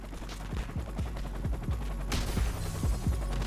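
Rapid gunfire from a video game shooter with a Deagle and MP5 in play, a string of sharp, evenly spaced shots cracking close and loud, with a brief burst of noise midway.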